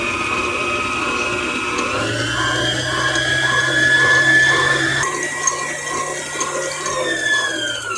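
An electric mixer creams butter in a home kitchen for banana bread, giving a steady, close motor whine that shifts pitch partway through and runs continuously with no talk.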